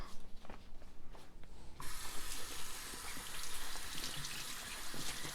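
Tap water runs into a sink as hemp seed pulp is rinsed during homemade vegan hemp milk preparation; a quiet trickle opens into a steady, broad hissing stream of running water that continues close by without pause.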